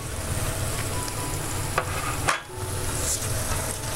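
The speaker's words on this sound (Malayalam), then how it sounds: "നമുക്ക് നന്നായിട്ടൊന്ന് ഇളക്കി കൊടുക്കണം." Chili powder and turmeric frying in oil for a Kerala king fish curry, a steady close sizzle with rhythmic stirring scrapes and a brief dip in the middle.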